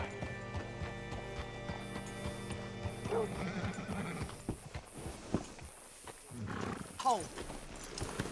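Horse hooves clop in steady, close beats in the video game Gangs of Blackwater 2, with whinnies and a voice speaking over the rhythm before it thins out amid scattered ambient noise.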